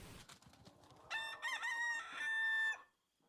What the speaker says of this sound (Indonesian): ini namanya ayam